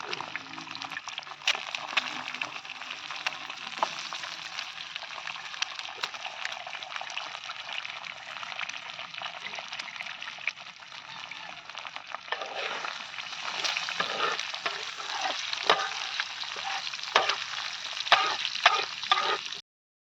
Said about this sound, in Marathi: बघा आई मस्तपैकी आपली अंडी तळते तव्यामध्ये